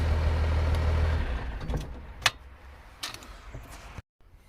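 A 5.9 Cummins diesel in a Jeep LJ idles with a low rumble, then the key is switched off and the engine winds down. A few knocks and clunks follow before it goes quiet.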